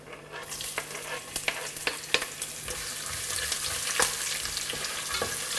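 Ginger fries with bay leaves in a hot pan for an Indian dish, giving a steady close sizzle punctuated by sharp clicks and scrapes of stirring, with no voices.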